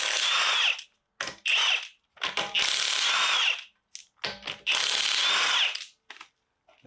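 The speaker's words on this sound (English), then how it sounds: "Get whatever it is you're doing to get the wheels off. Use my battery gun." Battery impact gun spinning off rear wheel nuts on a 2016 Vauxhall Mokka, several loud close bursts of rattling hammering whirr separated by short silent pauses.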